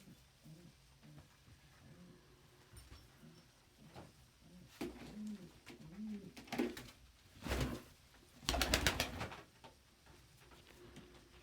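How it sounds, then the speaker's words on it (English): Pigeons or doves at their nest, cooing with soft, low rounded calls in a slow series, followed by a few louder flutters and scuffles, close by with quiet room noise. "Ellie seems to be especially impressed by Vinny's ability to kick other birds out of their nest"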